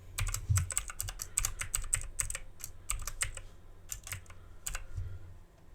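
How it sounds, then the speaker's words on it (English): Fast, uneven clicking of keys on a computer keyboard as a Wi-Fi network name is entered during TerrariumPI terrarium controller setup, close and steady for several seconds, with no talking. "So here you will type in your SSID."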